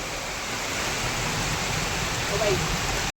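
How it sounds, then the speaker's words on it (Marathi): Heavy rain pours steadily outside a house, a dense, unbroken hiss of falling water at close range and high volume, continuing evenly until it cuts off abruptly. "खूप जास्त पाऊस आहे"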